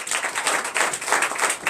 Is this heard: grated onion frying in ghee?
no